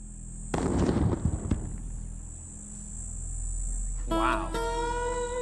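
A TNT-equivalent explosive charge goes off on an Arizona test range: one loud, crackling broadband blast lasting about a second. Its rumble lingers and fades, and a brief voice is heard near the end.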